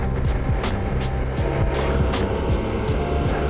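Riding in a moving vehicle down from Mount Wilson toward LA, a loud continuous rumble of engine and road noise with rushing air, no talk.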